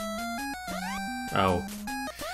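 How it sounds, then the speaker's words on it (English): Choppy chiptune-style game music with abrupt cuts between short melodic phrases, a burst of noisy clutter midway, and a brief voice exclaiming. "it actually sounds worse when it's edited, because then it's all chopped up"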